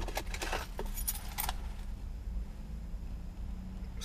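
A bunch of keys jangles and clinks loudly and close for about a second and a half in rapid metallic bursts, then stops, leaving a quiet room hum.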